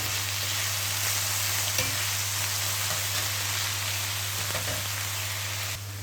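Chicken pieces browning in a frying pan for a casserole give a steady, close crackling sizzle with occasional sharper pops over a constant low hum, continuing unbroken with no talk.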